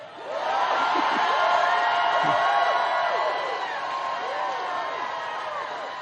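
A large rally crowd in Asheville cheers and whoops continuously, a dense roar of many voices with scattered shouts holding strong for several seconds.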